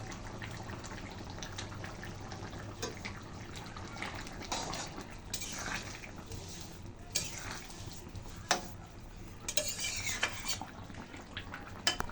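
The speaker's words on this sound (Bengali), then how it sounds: "এখন আমি দিয়ে দিচ্ছি কেটে রাখা টমেটোগুলো" Chopped tomatoes tipped into a pan and stirred for a soybean curry, quiet metallic scraping and clinks of a spoon on the pan with a few louder knocks and soft wet sounds, no talking.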